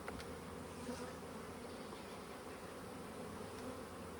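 Honeybees swarm around hive frames during queen-rearing preparation, giving a continuous, even buzzing drone at close range with no talk over it.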